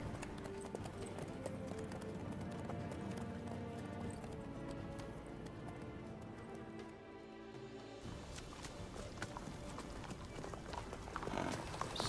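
Horse hooves clip-clopping steadily in The Witcher 3 video game, an even rhythmic trot heard close, with some game ambience behind it.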